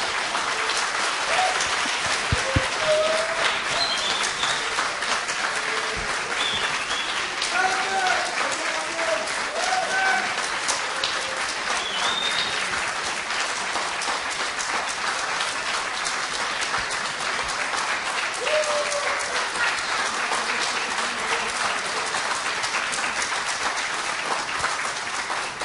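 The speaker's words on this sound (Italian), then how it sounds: "Un bel applauso." A convention audience at the Lucca Games 2013 fair, honoring Bruce Heard of the Mystara D&D setting, gives long, steady applause. Dense clapping fills the hall without a break, with a few faint shouts in the crowd.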